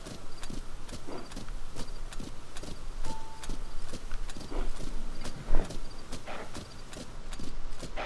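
Horse hooves from Tears of the Kingdom, a brisk regular clip-clop of a galloping horse, close and loud, steady for the whole stretch with no speech.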